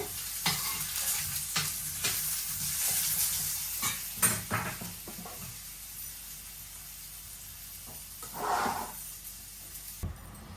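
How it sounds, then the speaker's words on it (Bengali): Potatoes fry with a pinch of salt in a home pan, a steady sizzle broken by a few sharp scraping stirs and one brief louder hiss near the end, with no talk. "সামান্য লবণ দিয়ে দিই আলুটা একটু ভেজে নেই"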